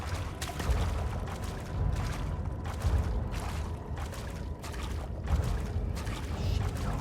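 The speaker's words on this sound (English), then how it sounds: "Why am I like making water sounds?" Water sounds glitching in the horror game Amnesia: The Dark Descent: a steady wash of splashing, pouring noise with recurring surges roughly every second, moderately loud and continuous, with no talking over it.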